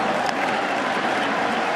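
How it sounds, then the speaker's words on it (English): A Fenway Park crowd at a Red Sox–Tigers postseason game roars steadily as fans rise to their feet, a dense, loud, sustained wash of cheering with no break. "Crowd to its feet."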